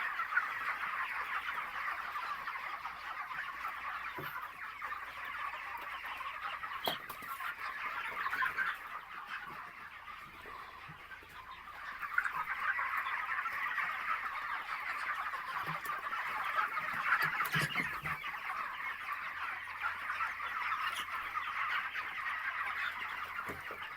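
Many chickens cluck and chatter steadily throughout a winter chicken house, a dense continuous flock noise with no talking.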